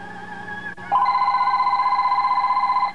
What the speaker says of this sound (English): Look at this, even late at night I get phone calls.